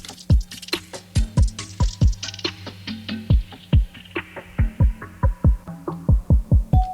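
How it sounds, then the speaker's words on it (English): A produced music beat with automated reverb building into an underwater-like wash: evenly spaced punchy kick-like hits under a sustained low hum, the tail smearing and dulling as the pattern continues. "This reverb is automated, so as the EQ does its thing, the reverb is going to build up more, and basically this gives it like a little underwater effect"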